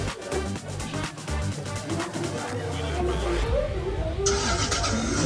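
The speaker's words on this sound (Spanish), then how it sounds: "todo suena cuando prendes el motor" A toy electric mini motorcycle starts up with a clicking, rattling buzz that shifts into a higher steady electronic engine tone, close and fairly loud.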